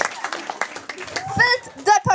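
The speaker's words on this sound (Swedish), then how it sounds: "En varm applåd för Godde!" Scattered hand claps from a small audience at a wizard rock rap show, a short run of distinct sharp claps that thins out as people start talking.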